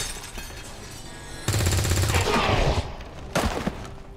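A soldier's shot in XCOM 2, a burst of rapid gunfire cracking in dense succession over a busy game soundscape, followed a moment later by a second shorter volley.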